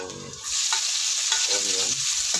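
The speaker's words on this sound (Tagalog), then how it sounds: "I-golden brown natin para lumasa yung ating garlic." Garlic fries in a pan toward golden brown, a busy loud sizzle with stirring scrapes, close and constant.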